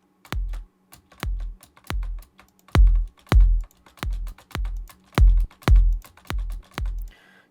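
Kick drum squashed by a compressor set to a short attack and long release, about a dozen dull, evenly spaced thumps with clipped transients, alone and fairly loud.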